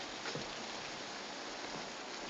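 Steady rain falls in a soft, even hiss, a continuous wash of drops with no break and no voices over it.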